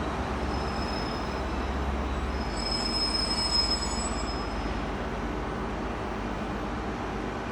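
A Great Western Railway train at Exeter St Davids station gives a steady rumble of wheels on rails, with faint high squeals from the wheels partway through, and no talk.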